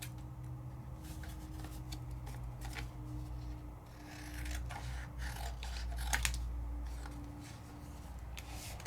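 Scissors cut through craft material in a quiet room, giving faint, intermittent snipping and rustling sounds spread across the stretch.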